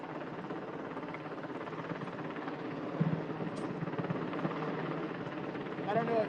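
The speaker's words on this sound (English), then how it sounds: "if anyone can identify the helicopter model" A helicopter passes overhead in Washington, DC, a steady broad rumble of rotor and engine at moderate distance on a city street, with people talking faintly nearby.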